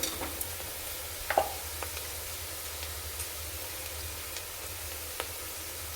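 Ridge gourd sautéing in a pan sizzles softly as turmeric is stirred in, with a steady low hiss broken by a few sharp scrapes and clinks of the spoon against the pan.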